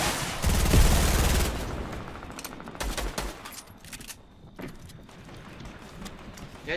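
Video game arena match with a burst of rapid automatic gunfire up front, then scattered single shots and impacts fading into lighter, distant firing.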